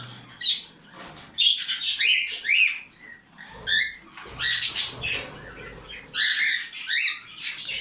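A parrot kept for sale chirps and squawks in bright, repeated bursts close by, a lively string of shrill calls with short pauses between them and no voices.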